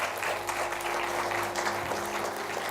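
Steady applause from a crowd, a dense continuous clatter of many hands clapping at an even level throughout.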